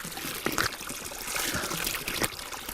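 Cold mountain spring water trickles and splashes steadily from an outdoor source, close and moderately loud, with a few brief louder spatters.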